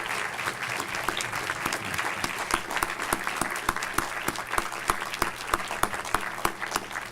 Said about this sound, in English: we might give them a round of applause and thank them for their great work this week